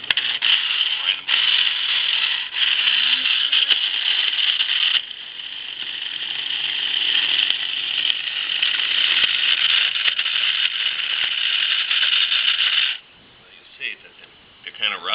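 Dried chilies being ground into chili powder in an electric grinder, a loud steady whirring buzz running for about thirteen seconds with brief dips, then stopping abruptly, followed by a few short bursts.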